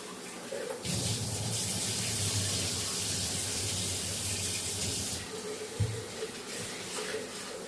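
Tap water running steadily into a kitchen sink while okra is washed for sambar, a continuous close gushing stream that eases slightly toward the end, with a brief clunk near the finish.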